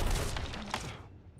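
Cannon fire in Sea of Thieves, a rapid burst of booming shots in the first second, loud and close, then fading off into a quiet tail.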